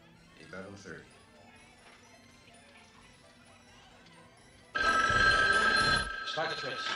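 A telephone rings loudly at a phone booth, a bright insistent electronic bell that bursts in after quieter background sounds and fades slightly near the end, with faint voices earlier.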